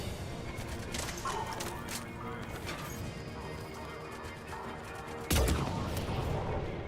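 Sniper rifle fire in the Mass Effect video game, a single sharp loud crack standing out over constant game noise and ambience.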